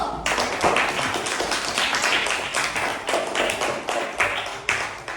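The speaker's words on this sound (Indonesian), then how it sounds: "kita beri tepuk tangan untuk kelompok 1" Classroom applause for a student group in a teacher-training lesson, dense overlapping hand claps sustained throughout, fairly close and steady with slight swells.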